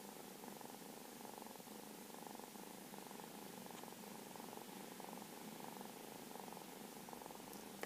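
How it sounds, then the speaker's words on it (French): A cat purrs softly and steadily while resting on a lap, a faint, close, rhythmic rumble that continues evenly for several seconds with no voices. "Et vous entendez le ronronnement."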